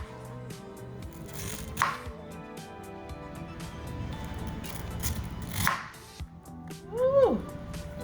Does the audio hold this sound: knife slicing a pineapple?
yes